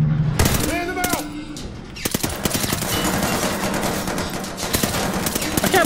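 Blind-fire gunfire in Call of Duty Vanguard during a train heist, bursts of loud shots with clattering and battle noise, under game voices and shouts.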